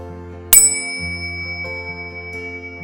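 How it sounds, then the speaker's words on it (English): A small Zen bell is struck once, giving a bright, sharp strike that rings on in a clear sustained tone over a low background hum, fairly close and alone. "If you want to know why I started using these Zen bells"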